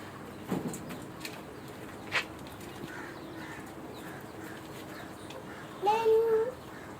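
Pigeons on a small farm coo softly as a young boy feeds them, with a short burst of louder cooing near the end over a quiet outdoor background.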